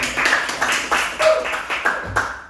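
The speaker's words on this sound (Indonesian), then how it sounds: "Silakan berikan tepuk tangan buat kelompok 2." A small class claps for a presenting group in a rhythmic, roughly steady beat of unison hand claps, about four per second, moderately close, with no talk over it.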